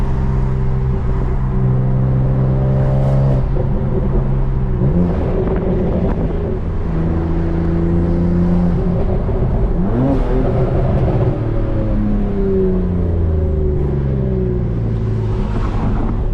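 A BMW M3 accelerating hard at high speed on a highway, its engine and intake roaring through repeated rising revs and gear shifts, loud and close throughout.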